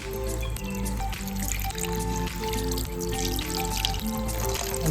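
Water poured over bhetki fish pieces to soak them, a continuous close pouring and trickling that lasts throughout with no talking.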